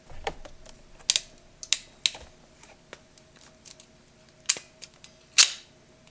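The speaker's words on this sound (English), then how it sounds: "put it in the crimpers here" Wire crimpers squeeze a terminal onto a battery cable for a 12-volt battery box, producing sharp separate clicks and snaps of the tool's ratchet at an irregular pace, close up, with no talking.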